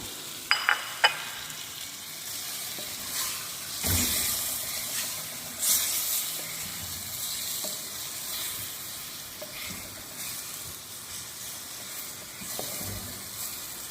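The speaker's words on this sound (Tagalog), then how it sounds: "Isisingkotsa muna natin siya." Chicken sautéing in a clay pot sizzles steadily up close, with scraping stirs and a few clacks of a utensil against the pot, no talking.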